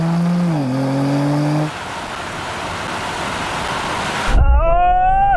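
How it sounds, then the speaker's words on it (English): A Mercedes-AMG C63 races a BMW M and an Audi RS over a standing quarter mile, with loud engine tones rising and shifting through gears under wind noise, then another sharp rising engine note near the end. "I'm going to jump back into the C63 to race all these cars over the standing quarter mile"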